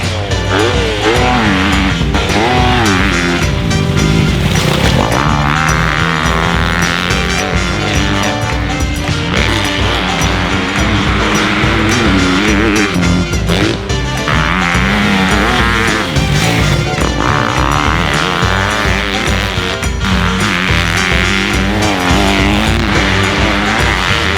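A 2022 Honda CRF250R dirt bike ridden at Mountain View MX Park motocross track in Oregon, its engine roaring loud and continuous, revving up and down through the whole stretch.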